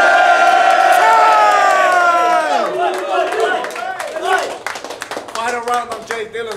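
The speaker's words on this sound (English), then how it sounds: "if you could just all cheer" A rap battle audience lets out a loud, sustained cheer and whoops at full volume, then the roar fades into scattered shouts and claps as talking begins.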